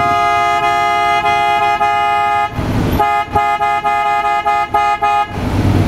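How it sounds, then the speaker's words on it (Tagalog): A deep, brassy PIAA Superior Bass bus-type horn, rated 112 dB, fitted to a 2024 Ford Ranger, blares in a long sustained blast, then breaks into a series of short rhythmic honks, loud and close. "Yung Superior Bus Horn."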